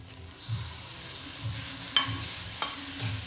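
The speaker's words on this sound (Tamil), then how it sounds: "வெங்காயமும் நல்லா வதங்கியாச்சு இது கூட தக்காளி சேர்த்துருக்கேன்" Quiet frying in a pan, a soft steady sizzle with a few gentle stirring scrapes and light clinks, no voices.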